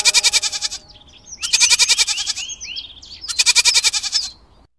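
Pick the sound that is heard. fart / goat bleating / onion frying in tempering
goat bleating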